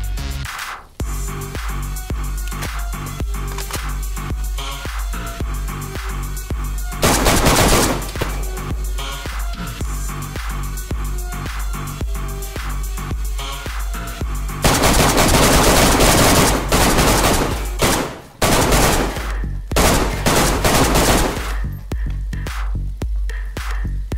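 Rapid bursts of gunfire in the video game DayZ while hunting, loud repeated automatic shots with a few sharper single cracks and near-constant firing throughout, no talking.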